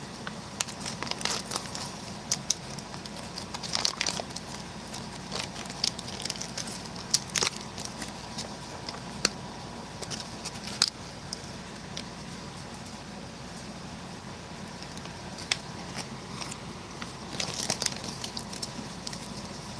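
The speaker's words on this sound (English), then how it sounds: "going to go ahead and open up the accessory packet." Packaging from a 1988 US Long Range Patrol ration accessory packet being handled and opened, with irregular crinkling, rustling and sharp crackles of plastic wrap continuing close up throughout.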